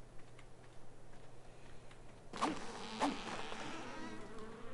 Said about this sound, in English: Grab bees, bees, bees!